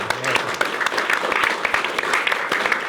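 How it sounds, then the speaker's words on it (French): Studio audience applauding a guest, a journalist and columnist, on a French television talk show; dense clapping fills the whole moment with a voice briefly audible at the start. "on peut l'applaudir"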